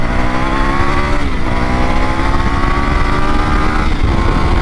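A 2021 Triumph Tiger 850 Sport motorcycle accelerates hard to overtake on an open road. The engine drones loudly and steadily, rising in pitch through the gears, with wind rush underneath.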